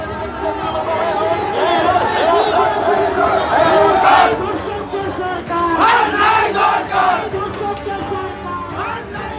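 A crowd of Trinamool and BJP supporters at a rally shout slogans against each other, a dense mass of overlapping voices rising in loud chanted bursts amid general outdoor hubbub.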